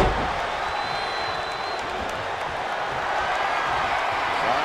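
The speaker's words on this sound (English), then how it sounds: "The WWE Universe is showing their appreciation for the action they're seeing." A large arena crowd in the WWE 2K22 wrestling video game applauds and murmurs, a dense steady wash of clapping and cheering that holds an even level throughout, with no commentary over it.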